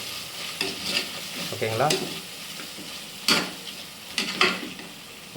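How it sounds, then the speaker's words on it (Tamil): Mutton masala and cumin powder fry in hot oil with a soft sizzle, broken by a few sharp stirring scrapes of a spoon against the pan, close up, with a brief spoken remark. "இதையும் போட்டு நல்லா எண்ணெயில் வதக்கணும்."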